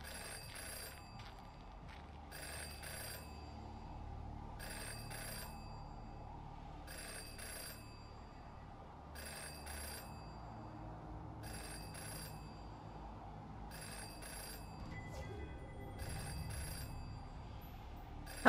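A payphone rings in the video game Jenny LeClue, its bell sounding in regular evenly spaced bursts, about eight rings, moderately clear over a low, murky game ambience with no talk.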